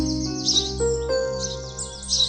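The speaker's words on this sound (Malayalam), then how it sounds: "അതൊരു അപൂർവ ഇനം പക്ഷി തന്നെ," Cartoon bird chirps, several quick high tweets in short bursts over a steady sustained musical background, moderately loud with no talking.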